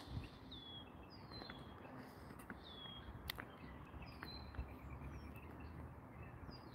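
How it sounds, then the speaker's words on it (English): Faint, scattered bird chirps and short whistled calls over a steady outdoor hiss, with a few soft clicks; no one talks. "Guys, can you hear the birds?"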